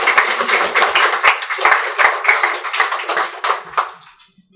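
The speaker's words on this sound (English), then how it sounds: "so they deserve a round of applause." A small audience at a community meeting on redistricting applauds, with distinct, uneven claps from a modest group in a close room that pulse irregularly and then stop abruptly.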